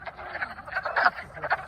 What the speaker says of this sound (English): Yeah, frogs.